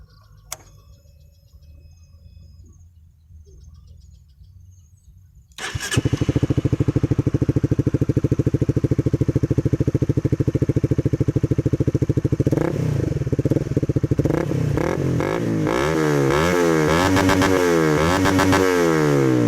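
A Honda CBR150R fitted with an Akrapovic Shorty exhaust, baffle in and no catalytic converter, starts after a few quiet seconds and then revs loud and close, with repeated rising and falling throttle blips toward the end.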